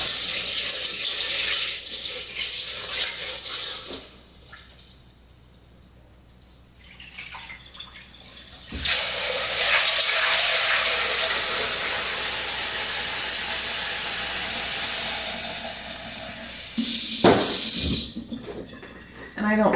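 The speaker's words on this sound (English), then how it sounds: "Then I just fill this up with water." Water runs steadily from a tap into a pot of beans, a broad hissing rush that stops briefly, then resumes for a long stretch before a short louder burst.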